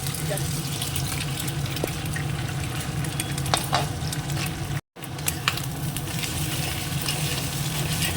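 Eggs frying and setting in a pan give a continuous close sizzle and crackle, with a light stirring clatter and a brief moment of silence partway through. No one speaks.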